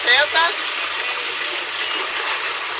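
Steady broadband rush of water pouring down a backward-ridden water slide at an amusement park, a continuous loud gushing with a brief higher tonal sound near the start.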